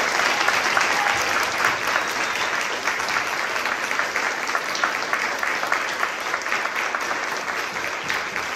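An audience applauds at an all-candidates forum for the Nanaimo-Lantzville electoral district, a dense, sustained clapping from a full room that stays loud and steady throughout, with no voices over it.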